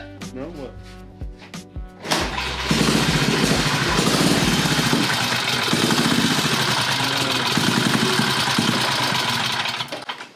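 A golf cart engine starts up and runs loudly and steadily at close range, a rough, continuous mechanical drone with people talking over it.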